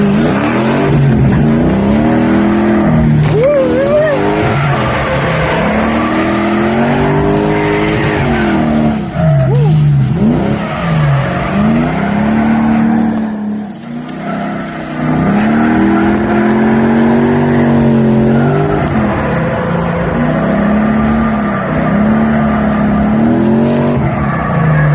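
A Lexus GS400 on stock bumpers drifts at a drift event. The engine roars loud and close with rising and falling revs, and tires squeal almost continuously through about 25 seconds of sustained sliding.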